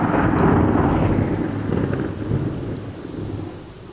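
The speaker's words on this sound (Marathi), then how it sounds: "बघा बरं पाऊस कसा येतो" Steady heavy rain pours down while a deep roll of thunder rumbles and slowly fades, loud and close.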